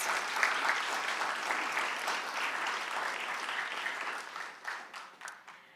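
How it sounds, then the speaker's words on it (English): An audience at a university event bursts into sustained applause after a live performance, a dense wash of clapping that holds steady and then thins out toward the end. "Everybody join me in giving her another round of applause."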